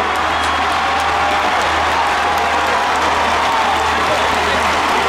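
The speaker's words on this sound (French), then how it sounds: "Applaudissez-le." Crowd applause at a street rally for Adama Traoré, a steady loud wash of clapping and crowd noise filling the whole stretch, with voices mixed in.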